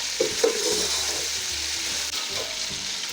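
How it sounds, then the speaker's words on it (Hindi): Chicken fries in a pan for biryani, a steady, close hiss of sizzling oil with a few brief stirring scrapes near the start. "यहाँ चिकन फ्राई हो चुकी है, ये देखिए आप"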